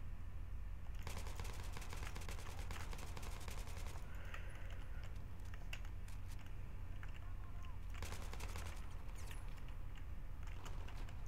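Battlefield 3 gunfire rattles in steady rapid bursts through a constant loud wash of game noise, with brief pauses between volleys and a player talking.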